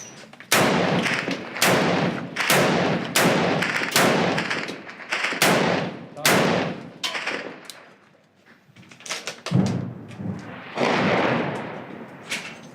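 Combat in Mosul with a rapid series of loud, close blasts and heavy impacts, one after another, then a short lull before more explosive bursts.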